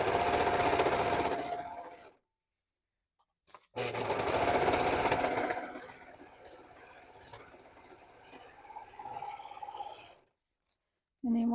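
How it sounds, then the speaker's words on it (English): Sewing machine stitching a half-inch seam on a raincoat, loud and close in two long runs of rapid whirring separated by a brief stop, then easing off into softer handling noise and quiet. "we're going to sew this right up through here with our 1/2-inch seam."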